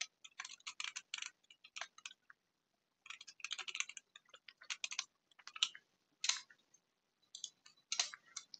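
Bursts of typing on a computer keyboard, with quick clustered key clicks in several runs separated by short pauses, close and fairly quiet with no voices.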